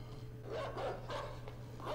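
A dog in the video game Inside gives a few short, faint barks at uneven intervals, sounding somewhat distant over a steady low hum.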